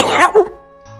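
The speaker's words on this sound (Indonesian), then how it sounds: "Cegoh batuk sakali." A single person coughs once, close and fairly loud, followed by a short rough throat sound and then near quiet.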